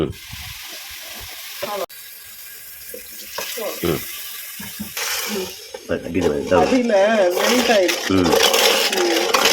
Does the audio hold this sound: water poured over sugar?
yes